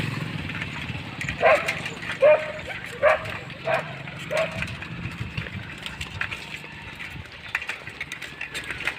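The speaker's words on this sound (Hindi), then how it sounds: "ये कुत्ता इधर है, एक गाड़ी बाइक वाले के पीछे दौड़ रहा है" A dog barks in a short run of four or five sharp yaps while chasing a motorbike along a rough road, heard over traffic and engine rumble with outdoor background noise.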